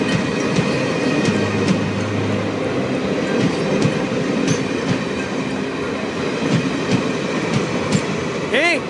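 A train rolls past close by in a stage drama, its wheels clattering loudly over rail joints in a steady run, with squealing wheels and brief voices under the rumble.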